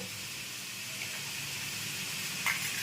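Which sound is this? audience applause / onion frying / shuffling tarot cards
onion frying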